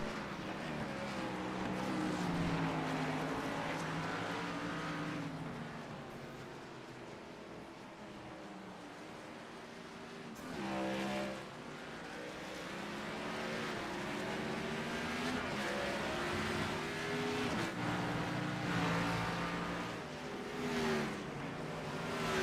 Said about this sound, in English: Fighting the ill handling race car.